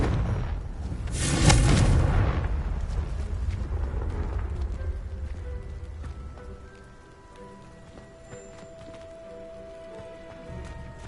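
Confringo spell explosion in Hogwarts Legacy, a broad, loud burst followed by a long rumbling, crackling decay that fades into quieter game ambience over several seconds.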